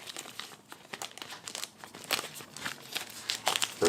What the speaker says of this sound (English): there's a piece of tape up here. You can go ahead and rip it off.